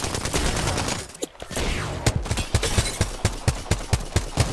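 Rapid gunfire in the Apex Legends video game comes as sharp, repeated shots in fast bursts, loud and close, following a brief lull with a swishing movement sound.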